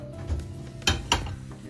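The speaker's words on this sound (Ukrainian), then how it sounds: "Достаємо пательню" A couple of sharp metallic clanks of a frying pan being pulled out and set down, close by, over a quiet kitchen background.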